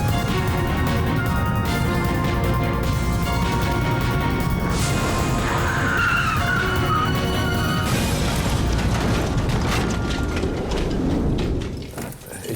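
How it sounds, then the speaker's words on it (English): A stunt car with a welder on board drives up a ramp and rolls over lengthwise, producing a loud, continuous rumble and clatter with a harsh crashing surge partway through. "Then the car with the welder on board carries out a perfect longitudinal rotation."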